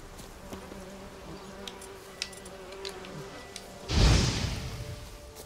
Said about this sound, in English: I haven't seen those kinds of bees before